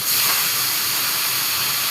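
Belly-cut fish pieces fry in hot oil, giving a loud, steady, unbroken sizzle with a bright hiss throughout.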